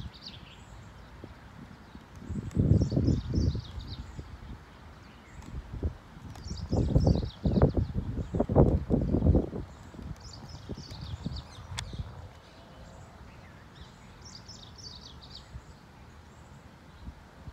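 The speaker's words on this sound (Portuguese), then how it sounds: "só com o barulho dos passarinhos, da natureza, aqui do Havaí" Birds in Hawaiian nature sing in repeated short, high chirping phrases, fairly faint and distant, over a steady outdoor hush broken by a few louder low thumping passages.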